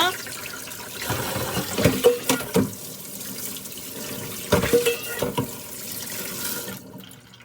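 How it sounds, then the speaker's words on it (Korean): Radish is rinsed under a running kitchen tap, a steady close stream of water with bursts of splashing as the root is rubbed, then the flow cuts off at the end. "이렇게 더러운 부분만 흐르는 물에 깨끗하게 씻어서 준비해주세요"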